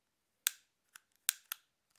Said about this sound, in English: let's flick the switch nonetheless to see what it's like, so you can hear that click